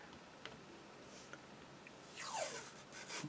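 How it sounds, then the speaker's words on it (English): Masking tape is pulled from the roll and pressed onto a miniature model to mask a section before airbrush weathering. Quiet rubbing and small handling ticks lead to a louder ripping peel that rises and falls near the end. "Put another piece up here to tape off the rest of the section."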